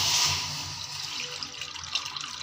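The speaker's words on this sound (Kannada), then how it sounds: "ಅದೇ ಬೌಲಲ್ಲಿ ಒಂದು ಬೌಲು ನೀರು ಹಾಕ್ತಾಯಿದ್ದೀನಿ." Water is poured from a bowl into a cooking pot, giving a short splashing gush that starts loud and quickly fades into light trickling and sloshing.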